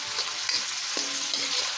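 Takway (taro stalk) adobo sizzles steadily in a hot pan while being stirred, with scraping and soft clatter over continuous frying.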